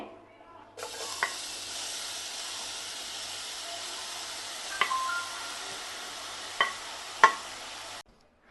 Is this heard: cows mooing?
no